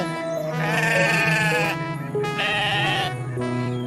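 A cartoon goat bleats loudly in three drawn-out, wavering cries, each rising and trembling, close and clear with no talking.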